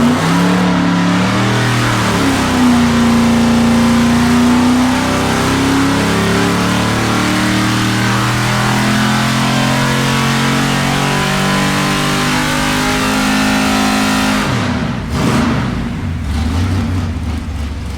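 A big-block LS6 454 V8 engine roars at full load on a dyno, revving up steadily in pitch for a long stretch, then drops off sharply before settling into a rough idle.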